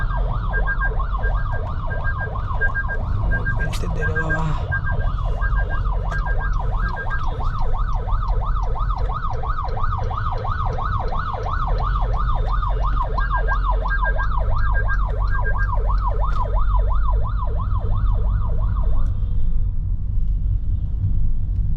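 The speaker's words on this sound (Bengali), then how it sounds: "অ্যাম্বুলেন্সকে যেতে দিতেছে না" An ambulance siren wails in a rapid, regular up-and-down cycle through heavy Dhaka evening traffic, loud and close over a low rumble, while a person briefly speaks.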